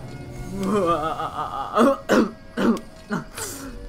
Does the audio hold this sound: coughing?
yes